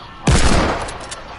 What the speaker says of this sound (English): Mason started shooting